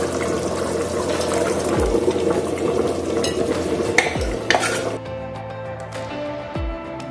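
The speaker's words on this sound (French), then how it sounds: "Maintenant j'ajoute dans les poivrons et je laisse maintenant bien mijoter." Peppers go into a pot of tomato sauce and are stirred, giving a wet bubbling sizzle with spoon scrapes and clanks against the pot, then a quieter simmer with a few low knocks, nearby and without talk.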